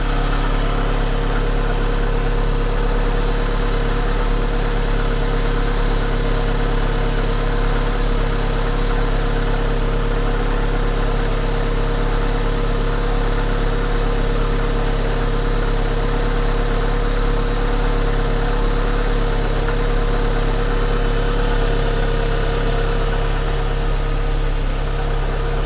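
A 1992 Audi 80 petrol engine idling steadily at full operating temperature, a smooth, even low hum with faint mechanical vibration, continuous and close, with no voices.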